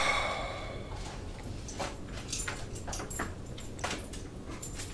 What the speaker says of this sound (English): dog is playing.